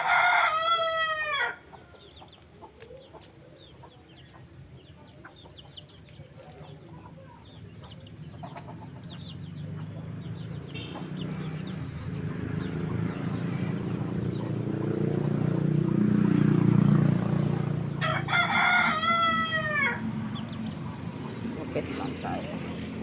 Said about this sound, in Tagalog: Ang dami nilang alagang manok.